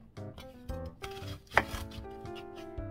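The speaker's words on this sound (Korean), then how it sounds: "그리고 파한 뿌리 이렇게 우선 썰어 보겠습니다" A knife slicing a green onion on a cutting board, a series of crisp chopping taps in a steady, slightly uneven rhythm, close and clear, with no talking.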